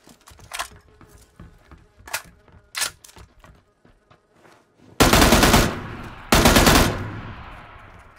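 Gunfire in the battle royale game PUBG: scattered sharp single shots at first, then two loud, sustained automatic bursts close up, each trailing off into echo, with no voices.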